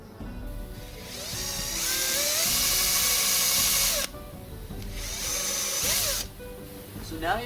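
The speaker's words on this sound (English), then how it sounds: "I'm going to drill another hole" A power drill whines up to speed and bores through wood for a foldable tripod in two bursts, loud and close, its pitch rising and dropping, with short pauses between.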